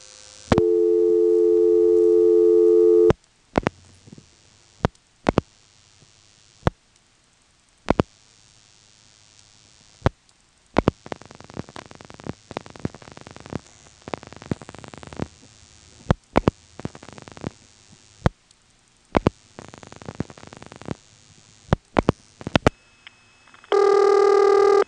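A 1977 telephone call to the 330 exchange near Elizabeth City, North Carolina, over a 2600 cycle carrier trunk on step-by-step switching with directors: a steady tone, then a long run of scattered switching clicks and thumps, ending in another tone.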